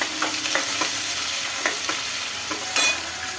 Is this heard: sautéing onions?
yes